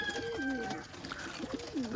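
Soft, repeated cooing from an old male pigeon, with low throaty warbles, fairly close, over a faint background hum.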